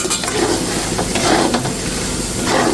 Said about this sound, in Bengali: এই মশলার ভিতর আলুটা দিয়ে একটু কষিয়ে নিচ্ছি